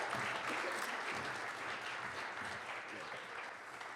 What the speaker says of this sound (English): And when I finished, people erupted into applause and laughter.